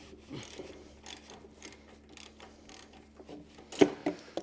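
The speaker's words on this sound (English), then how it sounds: "It's only a couple of turns with the socket just to get it loose" Ratchet socket wrench turning a spark plug loose on a Kawasaki engine, 21mm socket, a run of soft clicking ratchet strokes and faint mechanical creaks, quiet and close, ending in a sharper clack.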